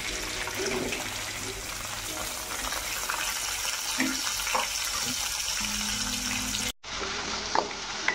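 Chopped onion drops into hot oil in a pan while cooking lasuni methi, giving a steady, close hiss of sizzling that runs throughout with a brief break near the end.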